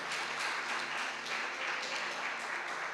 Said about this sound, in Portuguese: Aplauda o nome do Senhor, gente.